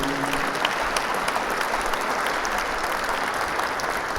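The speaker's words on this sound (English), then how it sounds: "Please just clap to make me feel less nerdy." Steady audience clapping during an anniversary keynote by a premier, a continuous, moderately loud round of applause with individual claps standing out near the front.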